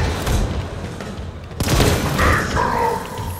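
Grenades explode in the Halo Infinite game on Xbox Series X, with a deep rumbling boom and then a second sharp blast followed by rolling debris and gunfire-like crackle, loud and close.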